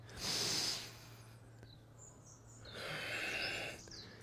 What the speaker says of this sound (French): La respiration du guerrier.